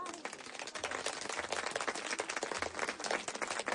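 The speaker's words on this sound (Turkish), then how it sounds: "Taraklı hanımını alkışlıyoruz" An audience applauds the women of Taraklı, a dense, quiet patter of many hands clapping at a distance, steady for several seconds with faint voices underneath.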